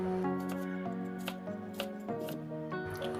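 A knife cuts through a white onion on a board, giving a few crisp slicing crunches in quick succession over a steady background hum.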